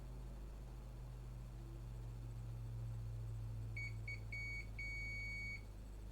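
A series of short electronic beeps sounds from a PlayStation 4 circuit board under repair, a few spaced tones followed by one longer steady beep, clear above a constant low hum.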